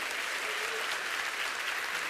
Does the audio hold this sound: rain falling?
no